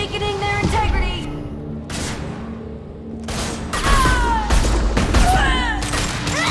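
Gunfire from the video game Mass Effect 2 comes as repeated sharp shots and bursts amid loud combat effects. Characters speak in between the shots.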